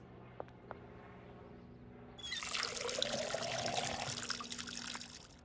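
Water filling a container in the video game Schedule 1, a steady trickling pour that starts partway through after a quiet stretch of faint clicks and keeps running to the end.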